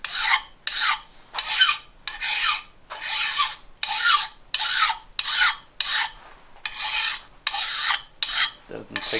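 A file rasps along the edges of a WoodRiver No. 5 1/2 jack plane in repeated strokes, about a dozen steady back-and-forth passes in an even rhythm, close and fairly loud with no talk.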